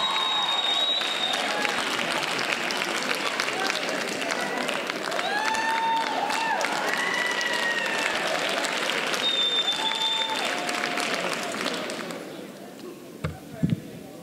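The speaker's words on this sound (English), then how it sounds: "a round of applause for Reverend Al Sharpton" Sustained applause from a large crowd at a university speaker event, dense and steady for about twelve seconds, with a few whistles and cheers, then fading out into scattered claps.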